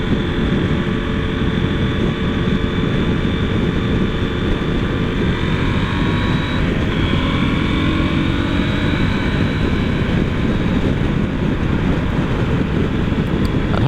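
A 2024 KTM 790 Adventure motorcycle accelerates and lugs from fourth into sixth gear, its engine a steady, loud, close drone with a rising tone and heavy wind rush throughout.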